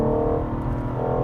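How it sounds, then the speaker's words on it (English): A BMW M4 Competition with its exhaust valves fully open in loud mode hums at a steady, close, dense engine drone for a short moment, with no rise or fall. "we do have the exhaust fully open, which is the loud mode"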